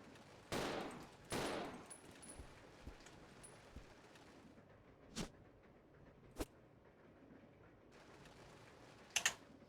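Gunfire from a handgun in the survival horror video game Resident Evil 0: two loud close shots in quick succession, then a few fainter isolated shots spaced seconds apart, with clicks and quiet ambience between them.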